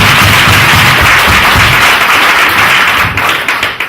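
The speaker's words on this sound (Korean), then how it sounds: "한 번 더 아낌없이 박수 보내요." Seminar audience applause rings out loud and close, a dense patter of many hands clapping that thins and tapers off toward the end.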